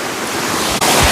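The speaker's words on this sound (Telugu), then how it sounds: "ఫైనల్గా అయితే వాటర్ ఫాల్స్ దగ్గరికి అయితే వచ్చాం" Mulapadu waterfall near Vijayawada sends up a dense, close wash of rushing water, loud and continuous for a brief moment with one tiny dip, no voices.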